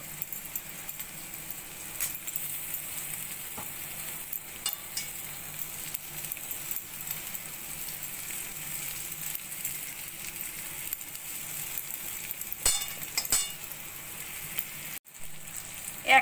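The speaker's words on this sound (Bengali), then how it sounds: "এবার আমি কাঁঠালের বীজগুলো এই গ্রেটারের সাহায্যে এইভাবে ঘষে ঘষে দিয়ে দেব।" A steady, close sizzle fills the whole stretch as jackfruit seeds are grated into a hot pan with onion, garlic and turmeric, with faint scraping and occasional clicks and no talking.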